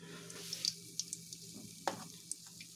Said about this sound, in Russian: И будем жарить. Потом переворачивать.